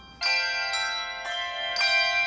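Handbells ring in Dunblane Cathedral, with several clear, sustained metallic strikes that overlap and ring on in the church acoustics.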